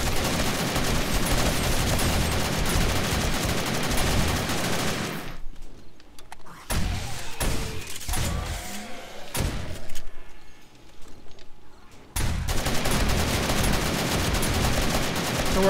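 Automatic fire from an extended-magazine rifle in the game 7 Days to Die rattles in dense, loud continuous bursts. A pause in the middle is filled with quieter thumps and commotion before the shooting resumes.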